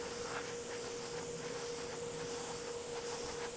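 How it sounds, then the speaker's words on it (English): An airbrush sprays a wet coat of paint onto a model airplane, giving a steady, even hiss with a faint constant tone underneath and no pauses. "Start to spray off the model."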